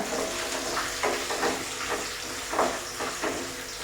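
Garlic, ginger and curry leaves frying in hot oil for a homemade amla pickle, a steady close sizzle with bursts of crackling and popping throughout.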